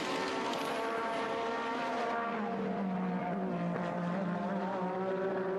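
Formula 1 race car with a Honda engine in the 1980s, its high-pitched engine whine sliding down in pitch as it overtakes, steady and fairly loud with no talk.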